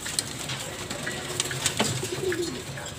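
Hungry racing pigeons in a loft coo softly and steadily, with scattered wing flutters and small background noises.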